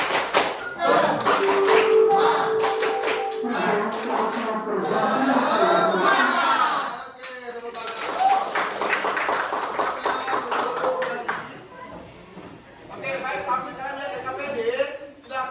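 A music class in an Indonesian school performs a rhythmic group clapping cheer: bursts of patterned claps in sets, mixed with children's shouted chanting, pausing and restarting several times.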